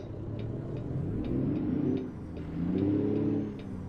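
Truck engine in American Truck Simulator revving gently as the clutch is let out slowly: a low rumbling engine rising and falling twice at moderate volume, with faint ticking throughout.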